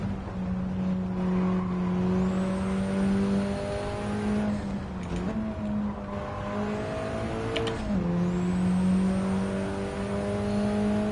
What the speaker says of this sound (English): You can just hear that turbo spooling though.